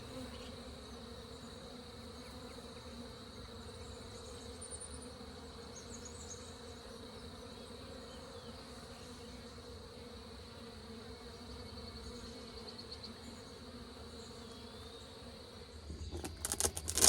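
Honeybees from a new nuc settle into their hive with a faint, continuous, even buzzing that goes on throughout, and a brief rustle or knock near the end.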